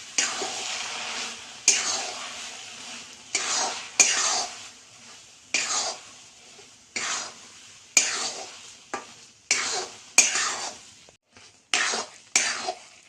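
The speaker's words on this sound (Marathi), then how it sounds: "5 मिनिटं छान असं हलवून घ्यायचं आहे, म्हणजे गूळ असा मेल्ट करून घ्यायचा आहे।" Jaggery being stirred into hot, coarse wheat porridge in a pan, with repeated scraping strokes of a spoon at a steady rhythm, close and moderately loud, with no talking.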